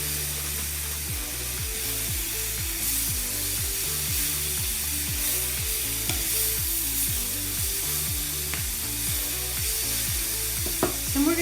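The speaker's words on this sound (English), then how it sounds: "tossing this really well to coat with all the oil and the juices that are in the pan" Peaches and snow peas sizzle loudly in hot oil as they are tossed in the pan, a constant close hiss with a low scraping rhythm of repeated strokes beneath it.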